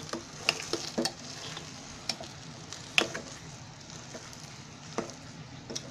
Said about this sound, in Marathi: आता सर्व असं सारखं करून घ्यायचं ढवळून